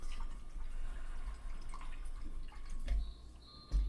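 A paintbrush is rinsed in a cup of water during an acrylic sunflower painting class, giving soft continuous swishing and dripping, with a few small clinks near the end.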